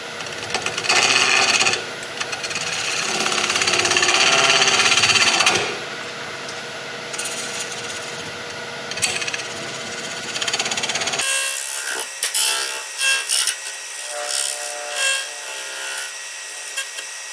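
Wood lathe turning a walnut blank inlaid with chestnut hulls using a carbide cutter at about a thousand rpm, giving a loud continuous scraping and rubbing roar that cuts out partway, then lighter intermittent cutting scrapes.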